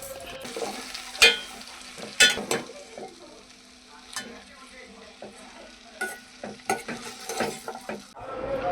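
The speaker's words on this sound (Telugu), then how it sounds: "ఇప్పుడు మనం కట్ చేసుకున్న గోరుచిక్కుడుని వాటిలో వేసుకొని బాగా కలుపుకోవాలి, మసాలా పట్టేటి వరకు." Cut cluster beans being stirred into masala in a pan, with repeated scraping and clinking strokes over a steady low sizzle, fairly close and with no talk.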